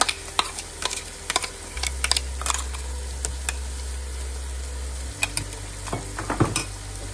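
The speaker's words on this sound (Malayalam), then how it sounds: "ഇനി ഇതിലേക്ക് ക്രഷ് ചെയ്ത് വെച്ചിരിക്കുന്ന ഇഞ്ചിയും വെളുത്തുള്ളിയും പച്ചമുളകും കൂടെയുള്ള മസാല ചേർത്ത് കൊടുക്കാം" Crushed ginger, garlic and green chilli masala fries with onions in oil for a chicken biryani, giving a constant sizzle broken by scattered clicks and scrapes of stirring.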